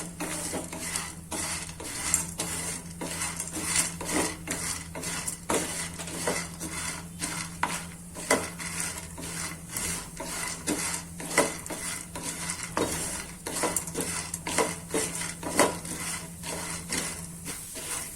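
Pieces of mango seed roasting over a low flame are stirred in a metal pan, making rapid, rhythmic scraping clinks of a utensil against metal over a faint sizzle, with no voices.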